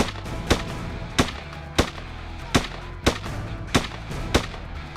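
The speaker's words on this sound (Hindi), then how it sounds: "AK-47 से ताबड़तोड़ गोलियां चलाई गईं।" AK-47 gunfire at a funeral, heard as a steady series of about eight sharp single shots spaced under a second apart, ringing over a dense background roar.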